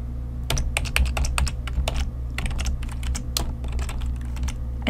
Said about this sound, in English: So let's type sheets.